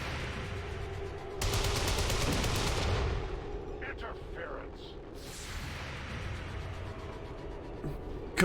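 Gunfire from the turn-based strategy game XCOM 2: War of the Chosen, a dense burst of rapid automatic shots with a sharp onset around a steady rumbling battle ambience, followed by scattered softer impacts and effects.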